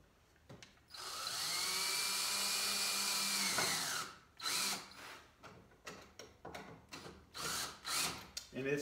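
Cordless power drill driving a screw with a Phillips bit into a countersunk hole in hutch wood, a steady whine for about three seconds, then stops; afterward someone talks over brief scrapes and handling sounds.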